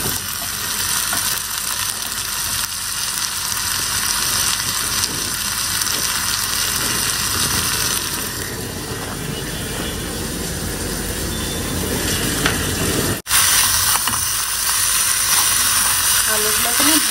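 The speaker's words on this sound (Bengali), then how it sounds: "সামান্য একটু আদা রসুন দিলাম, এবার আলুগুলো দিয়ে দিব" Boiled potatoes frying with spices, ginger and garlic, heard as a loud, continuous close sizzle with a steady hiss, interrupted only by one brief dropout near the end, with no talk.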